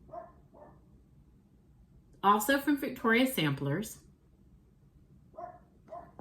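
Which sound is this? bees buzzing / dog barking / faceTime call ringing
dog barking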